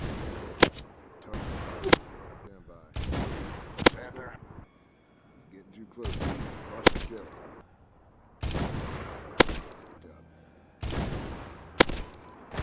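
Sharp sniper rifle shots in Medal of Honor 2010, roughly eight loud cracks arriving in pairs with short echoing tails and quiet gaps between bursts, with a voice talking in between.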